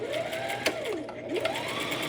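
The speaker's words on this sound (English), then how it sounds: "Drop your presser foot again, and then start sewing, back stitch." A sewing machine runs steadily, stitching a fabric headband with a brief back stitch, its motor whirring in a close, even hum with short pitch dips as it slows and restarts.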